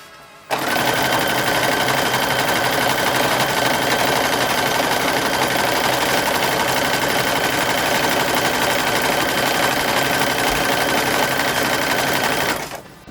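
A sewing machine stitches seams on a 1940s-style bathing suit, running in one steady, continuous, loud buzz for about twelve seconds with no talking.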